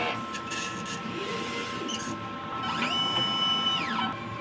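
A DTF printer runs a nozzle check after a head clean: a steady mechanical hum with faint whirring, and a carriage motor sweeping up and down in pitch near the end, heard up close with no talking.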